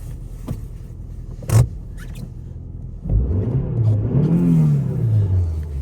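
An Opel Vectra B with the 1.6-litre Y16XE engine idles, then revs up and down in smooth rising and falling sweeps at close range, loud and unaccompanied by talk.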